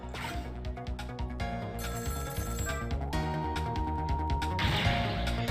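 A telephone rings in the Ghost Trick video game, with repeated bell-like trills over a continuous musical backing, steady and fairly loud throughout.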